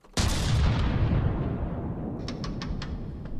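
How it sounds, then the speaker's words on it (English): Missile launch in the combat game From The Depths: a sudden loud, dense roaring blast that sustains for several seconds, with a series of sharp crackling reports near the end, no talk. "Yeah, that's the missiles."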